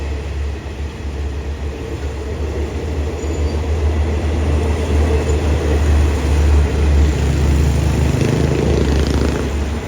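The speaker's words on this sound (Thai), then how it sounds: "เคลื่อนขบวนออกจากสถานีบ้านโป่งนะครับ" A train hauled by a QSY locomotive pulling out of Ban Pong station in Thailand, a loud, steady low rumble and rolling drone that builds slightly as it moves away.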